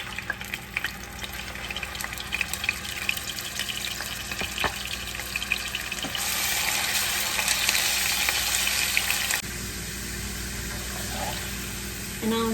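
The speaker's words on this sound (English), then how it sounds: "so now I'm going to add ginger garlic paste" A tablespoon of ginger garlic paste fries with whole spices, including black cumin, in a pot for chicken biryani, with a steady sizzle that swells louder and brighter midway and then eases back, alone without talk.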